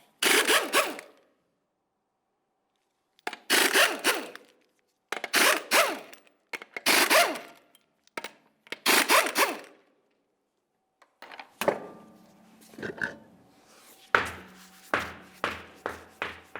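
Lug nuts come off the rear wheel of a 1998-2002 Lincoln Navigator in a series of sharp, close bursts of an impact wrench, each a second or so long, with a short rattle at the end.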